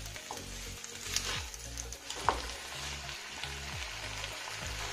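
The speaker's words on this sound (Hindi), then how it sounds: "अब इसमें कटे हुए टमाटर डालेंगे। टमाटर को अच्छी तरह मिला लेंगे।" Chopped tomatoes frying in a pan over medium heat while being stirred, producing a steady, close sizzle with occasional spatters and soft scraping.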